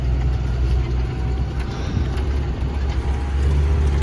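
A tractor engine runs steadily at idle, a low rumbling drone with a rhythmic throb, close and constant for the whole stretch.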